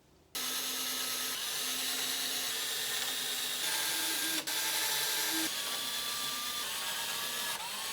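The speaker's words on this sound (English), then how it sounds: "let's just drill a bunch of holes until I can break it with my hands" A power drill bores holes through wood, starting abruptly and running as a loud, continuous whine with a brief dip partway, close and alone.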